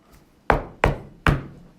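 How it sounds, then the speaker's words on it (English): Three sharp, evenly spaced knocks rap on a door, loud and close with short resonant decay, alone without voices. "I knocked on the brick house."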